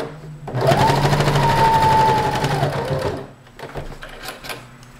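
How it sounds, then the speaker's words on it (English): A sewing machine stitches a strip of fabric into a tube for an anime-style bow, running in a steady, loud whirring burst for a few seconds before stopping and leaving only faint handling noises. "you're going to sew this into a tube and then you're going to sew this into a loop"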